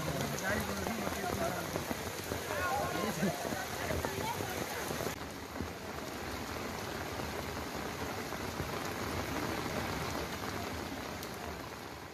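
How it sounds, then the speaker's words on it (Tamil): Rain pours down steadily over a wide area in Tenkasi district, Tamil Nadu, a dense continuous hiss of drops striking surfaces that carries on unbroken throughout, with no voices. "நேற்று நண்பகல் முதல் இரவு வரை விட்டுவிட்டு மிதமான மழை பெய்தது"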